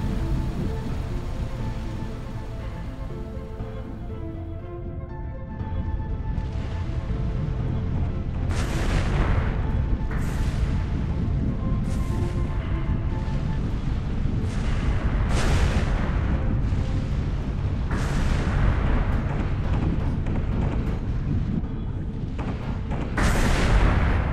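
Naval guns fire again and again in the Xbox 360 naval combat game Naval Assault: The Killing Tide. About eight loud, heavy booms come at irregular intervals over a continuous low rumble of engine and sea.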